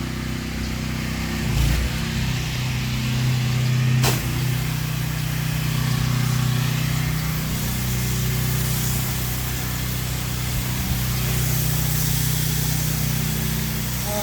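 A pressure washer engine runs at a loud, steady drone close by, used to wash a vinyl fence, driveway and house, with a couple of sharp clicks or bursts near the start.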